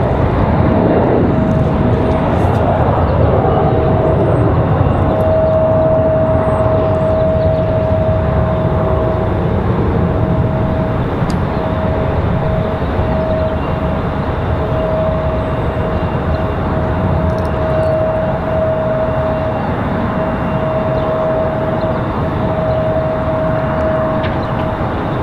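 An Embraer E175 regional airliner departs Raleigh-Durham International Airport, its broad jet roar steady and loud throughout, with a sustained engine whine riding on top and no talking.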